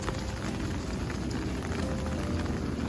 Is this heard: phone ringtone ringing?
no